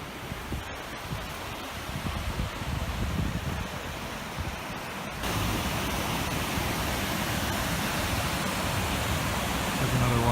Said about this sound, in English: There's another waterfall down there.